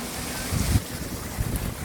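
A waterfall-like water feature inside a shopping area gives off a continuous rushing wash of noise, fairly close, with small surges and low rumbling bumps.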